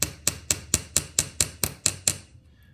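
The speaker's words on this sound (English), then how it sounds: "I'm going to use the flat side of the hammer now" A hammer's flat face strikes a rivet ten times in an even, quick rhythm, each sharp metallic tap ringing briefly before the next, then stopping.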